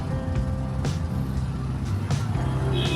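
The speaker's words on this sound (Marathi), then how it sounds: "इथे बॅरिकेड लावले हायटेड गाड्या जाऊ नये म्हणून, आणि तरी पण ही गाडी गेलेली आहे" Road traffic around a truck stuck beneath a height barrier at a flyover in Bhiwandi: a steady engine rumble with short tonal horn or beep blips and passing-vehicle swells, close and continuous.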